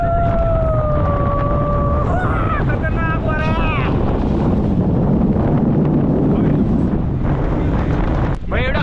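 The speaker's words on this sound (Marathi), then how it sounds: "एवढा खतरनाक हवा लागलेले." Strong, steady wind roars and buffets the microphone at the Takamak Fort viewpoint, loud and continuous throughout with brief whistling tones on top.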